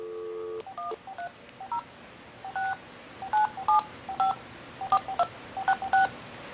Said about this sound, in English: Heard the touch tones good again.